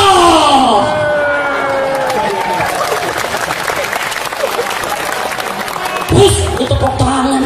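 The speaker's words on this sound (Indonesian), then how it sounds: "Tepuk tangan." An audience at an Islamic preaching gathering claps steadily in a dense, sustained burst of applause, with musical tones fading at the start and a voice rising over the clapping near the end.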